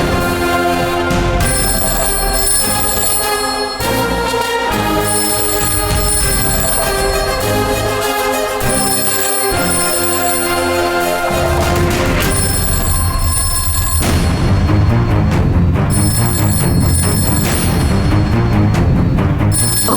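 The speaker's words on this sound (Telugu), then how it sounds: "ల్యాండ్ లైన్ కి ఫోన్ వస్తుంది" Landline telephone ringing indoors, loud repeated electronic ring tones sounding over dramatic background music, continuing for the whole stretch with no talking.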